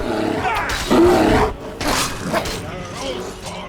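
A bear in the video game Skyrim lets out growling, roaring bursts amid game combat noise, with a voice mixed in, loud and close.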